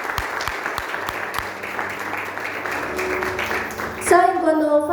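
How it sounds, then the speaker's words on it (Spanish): A church congregation claps during a sermon, producing dense, steady applause for about four seconds. A voice then starts speaking over the fading claps near the end. "Y si le puede dar un aplauso a su presencia."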